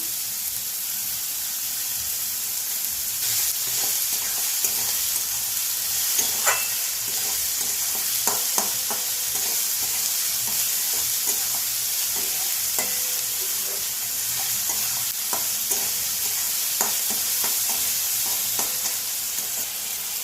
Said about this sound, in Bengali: পেঁয়াজ একটু ভাজা ভাজা হয়ে গেছে